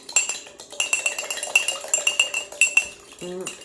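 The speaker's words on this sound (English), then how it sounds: "Now scramble it. There's a big mug for one egg." A fork whisks one egg inside a big mug, making quick, rhythmic clinks of metal against ceramic that run close and bright for a few seconds, ending with a short squeaky tone.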